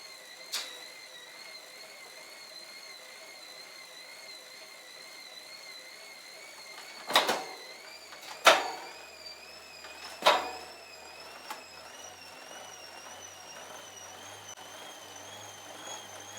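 A magnetic bike trainer spins steadily at its highest gear and resistance, giving a faint, even whine with wavering tones throughout and a few sharp clicks or knocks midway.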